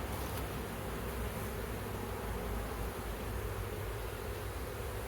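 Honey bees buzz steadily around a Flow Hive at the end of winter, a dense, even hum of many insects close by that continues without pause.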